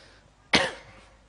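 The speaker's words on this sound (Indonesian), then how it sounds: "Itu batuk." A single sharp cough rings out in a hall during a religious sermon event, one loud burst with a short tail, set against a quiet room with no speech.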